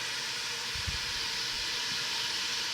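Leftover stew frying in a pot for jollof rice, a steady broad sizzling hiss that holds throughout, with a brief low thump near the start and no voices.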